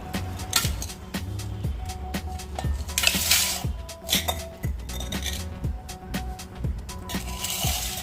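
Egg bhurji with moringa leaves in a cooking pan, with repeated clinks and knocks of metal utensils and a lid set on the pan, sharp close taps spread over a faint kitchen background.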